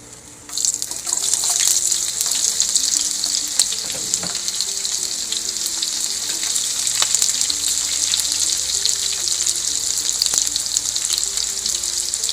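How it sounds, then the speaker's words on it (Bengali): Chopped onions hit hot oil with whole cinnamon, cardamom and cloves, bursting into a loud, sustained sizzle that continues evenly and close up, with a faint tonal hum running underneath. "এটা একটু বাদামি হওয়া পর্যন্ত পেঁয়াজটাকে একটু ভালো করে ভেজে নিতে হবে"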